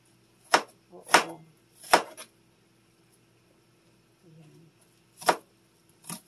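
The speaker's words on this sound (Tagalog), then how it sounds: "Hiwa muna tayo ng sibuyas." Knife chopping onion on a board for baked haddock, five sharp separate strikes spaced irregularly with quiet pauses between, close and crisp, no talk.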